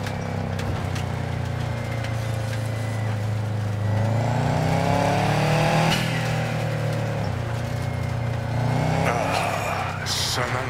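A car engine hums and revs while driving in Cyberpunk 2077, a steady low drone that swells as it accelerates, heard under voices talking throughout.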